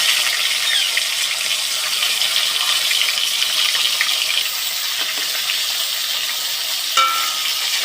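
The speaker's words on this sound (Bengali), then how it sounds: "মাছের কাঁটাগুলো যেভাবে মাছ ভাজে ওইভাবেই কাঁটা ভেজে নিতে হবে" Steady loud sizzling and crackling of bhetki fish bones frying in hot oil, continuous throughout with a brief clatter near the end.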